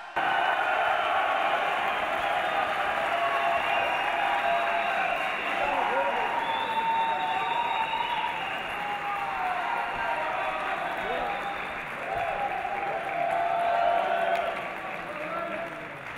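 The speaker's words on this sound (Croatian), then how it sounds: "Ajmo još jedan veliki aplauz za oba takmičara, molim vas." A boxing crowd breaks into sustained applause and cheering for both fighters after a split-decision quarterfinal win, steady and full throughout with a slight dip midway before swelling again.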